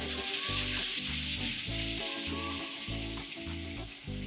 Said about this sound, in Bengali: এবার এই মশলাটা সময় নিয়ে খুব ভালোভাবে কষাতে হবে।